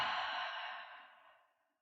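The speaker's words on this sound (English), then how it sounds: "Inhale through your nose, out your mouth." A single long exhale pushed out through the mouth during a yoga flow, a soft breathy rush that starts clear and close, then slowly fades to silence over about two seconds, with no talking.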